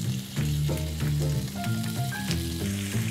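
Lamb sizzling and frying in a hot pan, a steady, loud crackle throughout with faint tonal clinks and scrapes over it, close up and with no speech.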